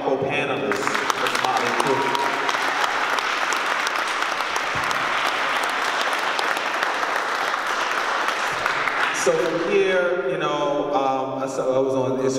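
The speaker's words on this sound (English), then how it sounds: "And continue that round of applause for all my co-panelists." Audience applause fills a panel discussion on gentrification in Richmond, a dense, steady round of clapping that runs loud for about nine seconds before a voice begins speaking over its fading tail.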